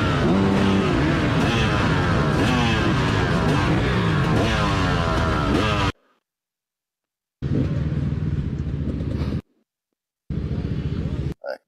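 Dirt bikes racing, their engines whining and rising and falling in pitch as they rev loudly together, cut off abruptly by silent gaps before shorter bursts of engine noise return.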